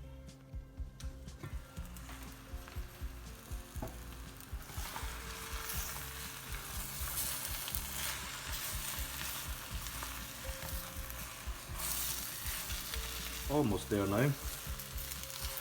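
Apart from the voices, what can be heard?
spinach sizzling and being stirred in a pan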